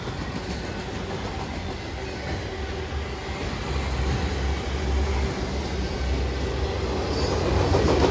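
Conrail freight train M205, an ex-EBSR consist bound for Louisville, rumbles steadily past Voorheesville with a dense, continuous roar of rolling railcars and wheel noise. The sound is close and grows slightly louder, and no voices are heard.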